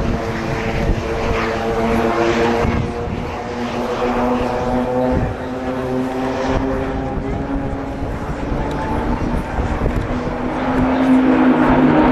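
Swiss Air Force Pilatus PC-7 propeller aircraft flying a diamond formation and a 60-degree looping at an air show, a steady loud droning roar of engines throughout.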